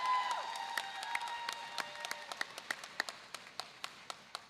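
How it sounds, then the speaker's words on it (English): A crowd at a graduation celebration for Black graduates of the LACCD applauds and cheers, then the clapping thins out to a few sharp, scattered claps that fade toward the end. "Please give them a round of applause."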